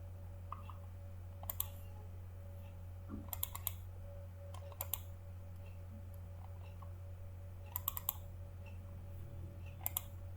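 Faint, sparse computer mouse clicks while working in Revit software, single and double clicks spaced irregularly over a steady low hum, with no talking.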